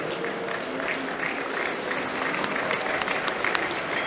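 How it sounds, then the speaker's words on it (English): A football stadium crowd at a Swansea City versus Tottenham Hotspur match applauds a returning player, a steady, dense wash of many hands clapping at a distance that holds evenly throughout. "I've given him a clap since he's returning."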